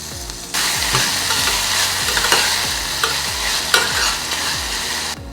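Finely chopped tomato pieces are stirred into hot oil tempering in a pan off the heat, a steady sizzle with repeated scraping strokes of a spoon, close and fairly loud with no talking.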